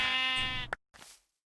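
A single Minecraft sheep bleat, a short nasal baa close up, followed by a brief softer game sound and then silence.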